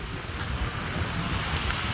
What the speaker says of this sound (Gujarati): પવન બહુ જ આવે છે